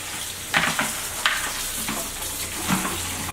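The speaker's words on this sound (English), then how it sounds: "So now we are going to rinse it up. Make sure you rinse it." Tomatillos being rinsed in water while preparing chicken in green sauce, heard as intermittent splashing and rubbing bursts of moderate loudness, fairly close, with no talking.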